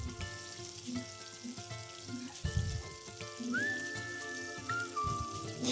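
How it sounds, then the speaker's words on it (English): Onions fry in a pan and are stirred until golden brown. A soft crackling sizzle sits under a background of faint tonal whistles and hums, with a few light knocks from stirring. "You have to ensure that you stir them for a period of about 10 minutes or so until the onions turn golden brown."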